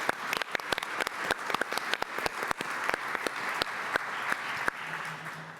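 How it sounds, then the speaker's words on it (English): Audience at a pension reform policy forum applauds, a modest crowd's clapping with distinct individual claps, steady for several seconds before a voice begins near the end. "So one more round of applause for the Pension Innovation Challenge and everyone who helped."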